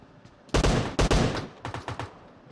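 Gunfire in a video game: two loud, sharp, close shots come in quick succession, followed by a run of lighter, evenly spaced shots that fade toward the end.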